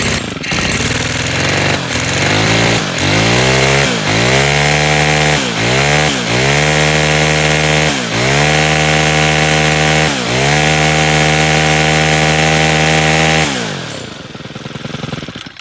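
A small Stihl two-stroke engine is cranked and restarted after being choked, sputtering through several starts and stalls before settling into a loud, steady high idle that runs close up and then cuts off at the end.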